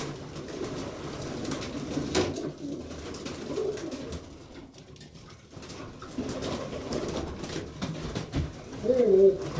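Pigeons coo repeatedly inside a loft, soft throaty calls layered over steady low bird murmur, with a brief flutter near the end.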